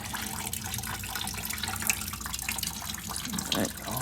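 Fluids drain from a 1956 Ford Thunderbird as a steady, close splashing stream of liquid runs without a break, with a few brief drips and clatters on top.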